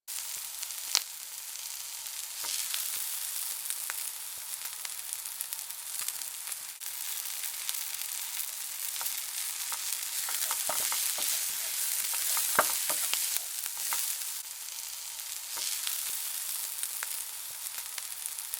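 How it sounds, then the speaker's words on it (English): Onions frying in a pan, a steady bright sizzle with scattered crackles and pops, close and continuous, no voices. "So the onions are still cooking."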